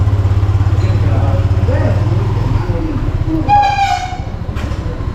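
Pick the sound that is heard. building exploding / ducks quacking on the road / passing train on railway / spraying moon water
passing train on railway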